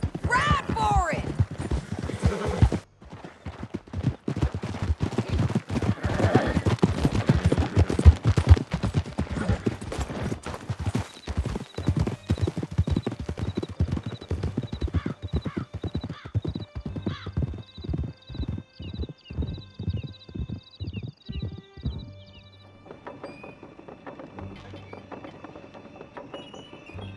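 Horses gallop in the Red Dead Redemption 2 game during a chase through a canyon: rapid rhythmic hoofbeats, a whinny and bursts of gunfire, with voices shouting over them.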